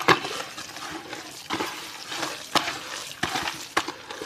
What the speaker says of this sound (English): So right now it's mixing the substrate with water.